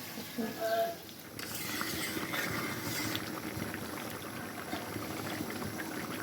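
Water goes into a pan of bottle gourd curry. A brief clatter gives way, about a second and a half in, to a broad, steady hiss and bubbling that holds to the end.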